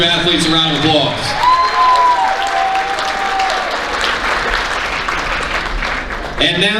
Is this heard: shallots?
no